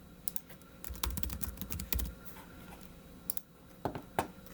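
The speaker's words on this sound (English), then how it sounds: "I can just type whatever I want" Fingers type on a computer keyboard in short bursts of clicky keystrokes with pauses between runs. The keys sound close and moderately loud, with no talking over them.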